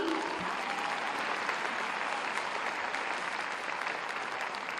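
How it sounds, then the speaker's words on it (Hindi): Steady, dense applause from a large crowd at a job fair ceremony in Gorakhpur where appointment letters are handed out, filling the whole stretch evenly at a moderate distance. "और तालियों के साथ हम आमंत्रित करेंगे अदिति श्रीवास्तव प्रयागराज की निवासी"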